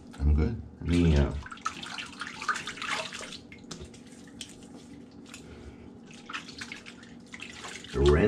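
Tap water runs and splashes in a sink in bursts as a face is rinsed after a vintage razor shave, close and moderately loud, with someone talking between the rinses.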